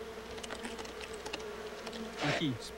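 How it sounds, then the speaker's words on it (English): Stingless bees buzz around a hive exposed from a split log in the Amazon rainforest. Several faint insects drone and pass close by, and one louder buzz swells near the end. "Unlike the honeybee, these bees do not sting, nor is their hive as geometrically precise."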